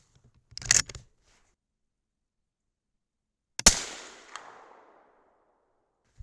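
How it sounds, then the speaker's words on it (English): Two sharp reports from a 6.5 Creedmoor rifle loaded with H4350 powder and showing slight hang fire: a short crack, then about three seconds later a louder shot with a lingering echoing tail outdoors. "Just a little bit of a hang fire there, but not bad"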